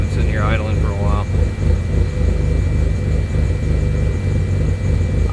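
A car with a 20g turbo setup idles at a steady rhythmic low thrum with a constant whine above it, while someone talks briefly over the engine.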